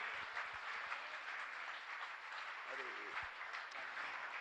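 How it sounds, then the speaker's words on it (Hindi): A large audience at a gathering with a Jain monk keeps up faint, continuous applause, a distant, hissing wash of hands with a few low voices beneath. "जोरदार लगातार अनवरत तालियां आपकी लगातार चलना चाहिए"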